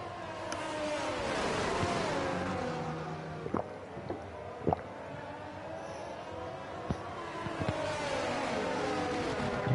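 Ferrari-powered race cars in a sim racing game on the Belgium circuit drone continuously, their engine tones rising and falling through shifts, with occasional sharp clicks on top.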